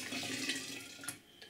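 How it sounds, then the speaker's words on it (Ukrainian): Boiled homemade tomato juice poured into a glass jar, a steady liquid splashing and trickling for a short stretch, close and fairly soft, with no talking. "І наливаємо туди цей зварений нами сік."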